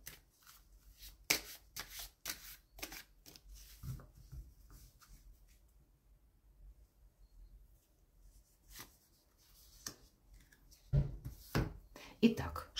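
Angel oracle cards are shuffled and drawn in quiet, close riffling bursts, with soft card slides and handling rustles in between.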